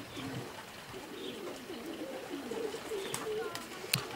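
Pigeons coo softly in low, rolling calls, with a faint flutter and a brief sharp tap near the end; the scene is quiet and close.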